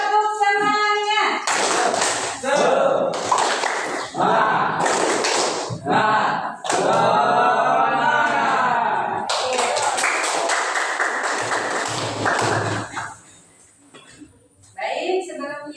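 Schoolchildren in a classroom repeat the 'tepuk semangat' clapping chant, rhythmic patterned group claps interleaved with loud chanted voices, fading to quieter talk near the end.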